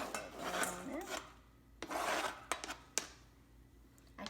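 A kitchen knife scrapes chopped vegetables for a slaw across a cutting board in a few rasping sweeps, with sharp clicks and taps between them. It is fairly quiet and close, with no voices.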